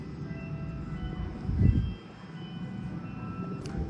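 A train rumbles at an above-ground metro station, a steady low rolling drone with a brief louder thump near the middle, heard from close by with no talking.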